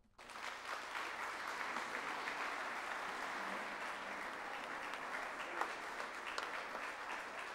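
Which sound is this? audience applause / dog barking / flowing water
audience applause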